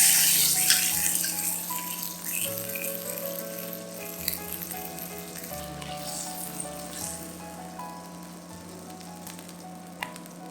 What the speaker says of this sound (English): Pan fry the rest of your pork belly the same way.